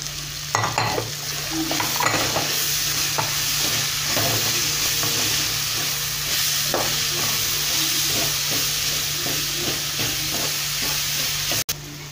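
Crushed garlic sizzles in hot oil for a homestyle beef curry, stirred with scattered scraping clicks over a steady hiss that runs unbroken, close and fairly loud, with no talk.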